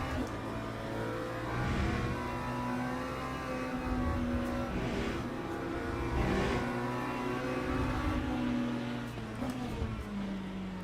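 Race cars overtake one another in the Le Mans Ultimate racing game, with engines whining and shifting pitch as they pull alongside. The loud, continuous roar swells and dips as the cars pass.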